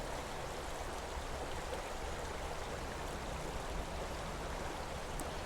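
Steady broadband rush of a flowing river, continuous and fairly loud throughout with no talking, like close water coursing past.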